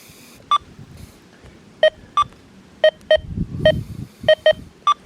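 A metal detector gives short, sharp electronic target beeps in an uneven sequence, some paired and some alone, with a faint rustle of sweeping in between.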